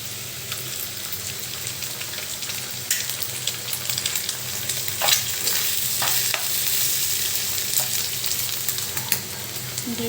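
An egg fries with already fried potatoes in a pan for a quick evening pasta dish, giving a steady loud sizzle throughout with occasional sharper spattering crackles and stirring scrapes.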